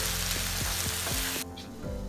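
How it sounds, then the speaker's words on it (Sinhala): Spicy eggplant fries in a pan as tomato sauce is stirred in, giving a loud continuous sizzle with regular scraping spoon strokes, and the sizzle drops away sharply near the end. "දැන් අපි හදන දෙවල් එකේ රස ඉස්මතු වෙලා ඉන්න තක්කාලි සෝස් මේ හැන්දක් දාගෙන මිශ්‍ර"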